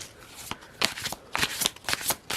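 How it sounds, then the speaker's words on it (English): A tarot card deck is shuffled by hand in a series of quick, crisp riffling bursts, close and fairly loud, with no one speaking. "we could just have a deck and we could just shuffle it and it pulls out"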